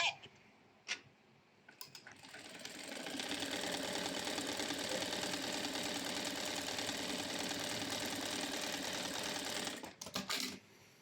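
A sewing machine runs steadily for several seconds stitching a spaced double thread with a simple stitch, a close continuous whir with fast mechanical ticking that starts after a few clicks and stops with brief clatter at the end.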